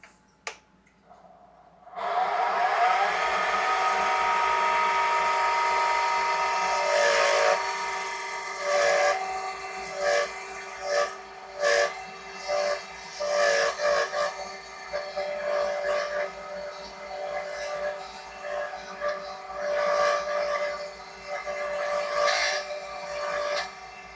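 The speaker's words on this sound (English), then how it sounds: "And then it'll be to sanding." Sanding of wood on modified pencils, a steady abrasive rasp that starts after a short quiet, then breaks into choppy strokes of varying length, close and fairly loud.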